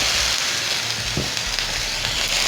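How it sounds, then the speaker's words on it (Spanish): Chicken pieces sautéing and searing in a hot frying pan, a steady broadband sizzle throughout with a brief stir or clatter around the middle, close and fairly loud, no talking. "Vamos a saltear el pollo, lo vamos a sellar."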